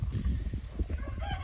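Chickens clucking and calling outdoors on a homestead on a wet, rainy morning, a steady run of short bird calls over low rumbling background noise, fairly close and without talk.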